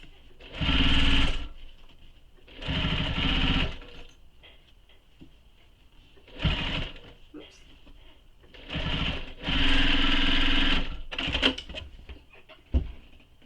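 A sewing machine stitches slowly around the curves of a leather satchel, running in about five separate bursts with quiet pauses between them, loud and close.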